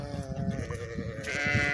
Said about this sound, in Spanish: Ahí están las ovejas